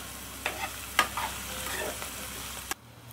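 Onions fry in a pan with curry leaves as a close, steady sizzle, broken by a few sharp stirring clatters before the sound cuts off abruptly.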